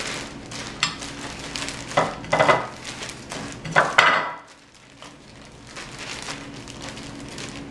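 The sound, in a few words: shaking a sealed Ziploc bag of pecan meal and flour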